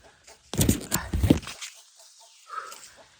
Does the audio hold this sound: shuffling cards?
no